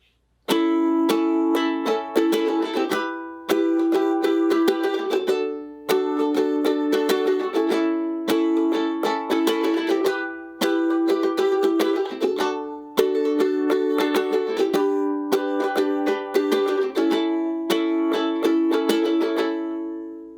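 Bright ukulele chords strummed steadily in repeated rhythmic patterns, close and clear, with short pauses between phrases and no voices.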